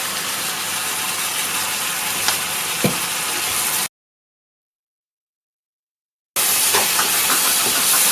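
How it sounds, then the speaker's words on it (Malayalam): Capsicum stirred into a sizzling pan of Kerala-style chilli chicken gives a steady close frying hiss with scraping and clinking from the stirring, broken by a stretch of silence before the sizzle resumes. "ഇനി ഇതിലേക്ക് ക്യാപ്സിക്കം ഇട്ട് ഇളക്കാം"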